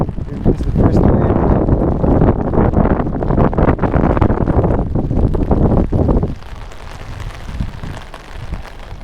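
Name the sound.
wind arriving with Tropical Storm Hilary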